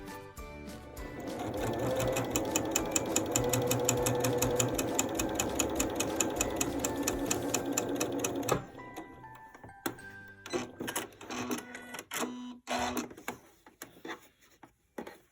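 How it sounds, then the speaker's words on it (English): A sewing machine stitches a straight seam on a quilt binding, a steady, fast, close rattling hum for about eight seconds, then stopping and giving way to short handling clicks and rustling. "So I'm just going to sew a straight line down to the other side."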